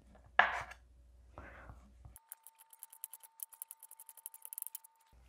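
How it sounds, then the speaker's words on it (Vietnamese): A knife slices thin pieces of boiled pork stomach on a cutting board, a quick run of crisp, evenly spaced chops that speed up toward the end, close and clear after a couple of short scuffs, with no talk. "Còn đây là bao tử, mình cũng cắt mỏng luôn."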